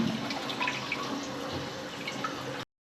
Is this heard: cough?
no